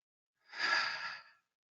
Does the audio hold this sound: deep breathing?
yes